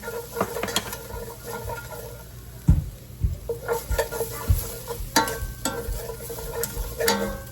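Garlic sizzling in a pan makes a constant bright hiss, broken by intermittent scraping and tapping from stirring, close and clear, with no talking.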